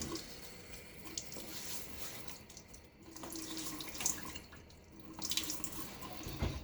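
A bathroom tap runs steadily into the sink while a face is wetted before a shave, with a continuous close splashing rush and small shifts as hands move under the stream.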